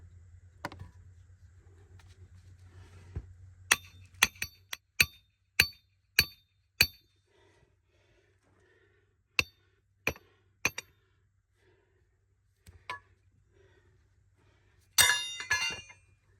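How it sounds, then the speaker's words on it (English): A trap stake is hammered into the ground outdoors while predator traps are set: about a dozen sharp, ringing strikes land close by in uneven bursts with quiet gaps between, then a brief clatter at the end. "Work on driving the stake."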